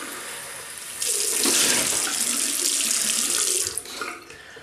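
Tap water runs into a sink to rinse during a wet shave, starting abruptly as a loud, close, steady splashing rush that holds for about three seconds before tapering off.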